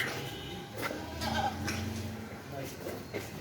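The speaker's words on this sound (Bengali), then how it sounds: "সুন্দর সুন্দর ছাগল" Goats bleating in a farm barn where sacrificial cattle and goats are kept, several calls rising over a steady background with voices talking nearby.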